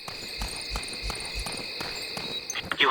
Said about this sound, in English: Wow, those crickets are loud.